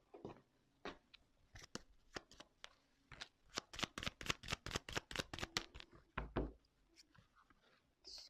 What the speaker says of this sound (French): Ok, bon, je vais prendre quelques cartes,